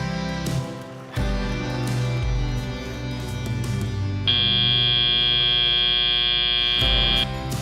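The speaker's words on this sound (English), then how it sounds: "And the buzzer sounds." A loud, steady electronic buzzer sounds for about three seconds to end a match at a Melbourne robotics tournament, cutting in over arena music and crowd noise and stopping abruptly.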